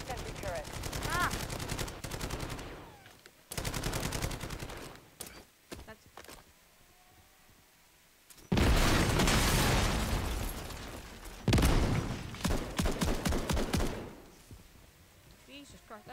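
Heavy gunfire in Call of Duty: Modern Warfare 3, loud sustained bursts of automatic fire and explosions in several long waves, with quieter gaps between them and game voices talking over parts of it.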